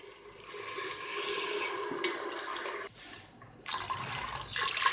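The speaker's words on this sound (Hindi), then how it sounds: "मैं 3 कप पानी ऐड कर रही हूँ।" Water pours and splashes steadily into a pressure cooker with mutton, three cups in all, briefly pausing midway before the flow resumes, close and fairly loud with no talking.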